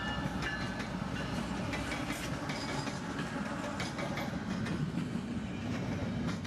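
An intermodal freight train rolls past on double track, a steady loud rumble of wheels and cars with rhythmic clicking, continuous and close for the whole stretch.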